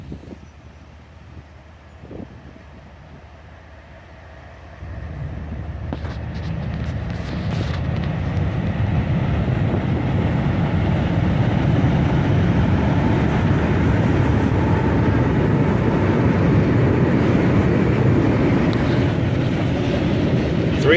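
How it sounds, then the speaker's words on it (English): Freight train hauled by three locomotives, an ES40DC, a Dash-9 and an AC44CW, entering a siding: quiet wind-buffeted air at first, then a swelling, sustained rumble of engines and rolling wagons drawing steadily closer and louder. "Three locomotives pull this train into the siding, an ES40 DC, followed by a -9 and an AC44 CW."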